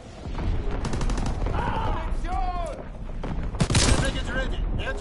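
Incoming enemy artillery in a multiplayer shooting video game: loud, dense bursts of gunfire and booming impacts pile up over the full stretch, mixed with other busy game effects.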